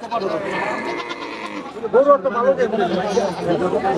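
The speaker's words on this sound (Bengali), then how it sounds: "সাদা ছাগল।" Goats bleating at a crowded livestock market, a few short wavering bleats close by amid the chatter and babble of buyers and sellers talking.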